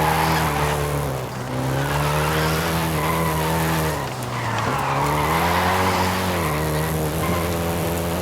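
A Volkswagen Golf GTI driven in Forza Horizon 5, its engine holding a steady loud drone with harmonic bands that dip briefly around gear changes, while tires squeal and skid throughout.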